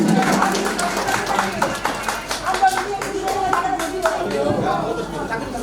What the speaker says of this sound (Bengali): সবাই আমরা আবার একটু জোরে করতালি জানি